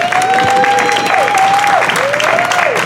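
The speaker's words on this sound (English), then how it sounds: "Let's give all of you guys a big round of applause." Loud, steady audience applause fills the space at a rally on farmworker communities and pesticides, with a few shouts and a whistle-like cheer rising above the clapping throughout.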